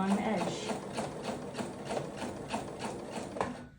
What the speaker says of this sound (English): I'm just using white thread and I just stitch like this